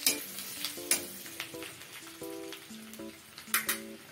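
Vegetables with chopped ginger and garlic sizzle in a pan while a spatula stirs them, with irregular metallic clinks and scrapes against the pan over a soft continuous fry.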